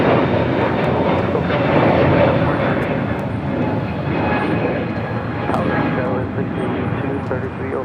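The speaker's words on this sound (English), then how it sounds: "This is Delta Airlines 749 taking off to Tampa on an A321neo" A Delta Airlines Airbus A321neo departs LAX for Tampa with a sustained, rumbling jet roar. The sound stays fairly loud and even throughout, easing slightly in the middle, and soft voices sit underneath.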